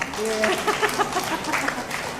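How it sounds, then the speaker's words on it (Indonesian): Elderly congregation members at a church Easter gathering give a round of applause, a mid-level clatter of hand claps with voices mixed in. "tepuk tangan dulu bagi kita semua"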